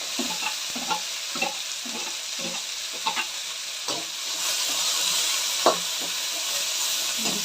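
Onions, garlic and curry leaves sizzle steadily in hot oil, with a constant frying hiss and soft irregular stirring clicks and scrapes of a spoon in the pan; no voices.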